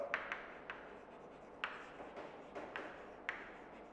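Pen or chalk writing during a chemistry lesson on preparing alcohols, with faint scratchy strokes and several distinct taps spaced irregularly, quiet and with no speech.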